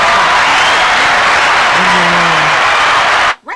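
A crowd applauds a waffle shop owner during a street interview, a dense steady wash of clapping, loud and close, with a brief voice rising through it before it cuts off at the end.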